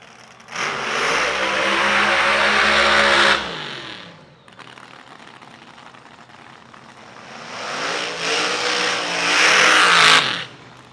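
Outlaw drag racing cars, an altered with a 125-inch wheelbase against a longer car, run side by side at Huntsville in two loud, roaring engine bursts, each lasting about three seconds, with a quieter rumbling gap between them.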